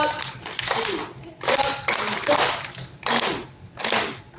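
A group of older dancers clap their hands together in a Chinese dance exercise, loud bursts of many claps coming in rhythmic clusters with short pauses between them.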